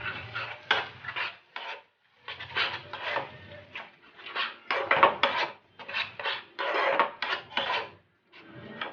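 Cashew, poppy seed and melon seed paste stirred and fried in a pan, repeated rasping scrapes of a spoon against the pan in uneven bursts, close and clear, no voices.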